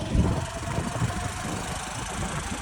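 A motorcycle engine runs steadily at low speed after a fuel fill, a close, continuous rumbling drone with slight roughness and no talk over it.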